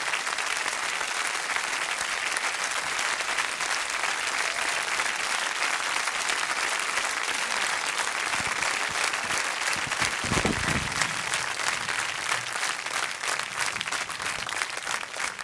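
Live audience applauding Portishead, dense sustained clapping from a crowd at a steady level for the whole stretch, with no voices standing out.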